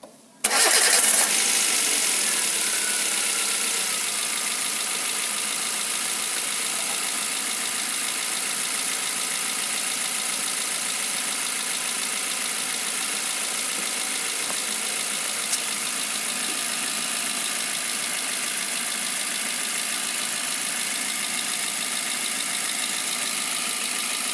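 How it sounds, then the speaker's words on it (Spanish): A Chevrolet Spark/Beat engine cranks and catches, then settles into a steady, close, continuous idle with no talking, freshly run after an oil and filter change. "ya arrancamos el motor por 5 minutos"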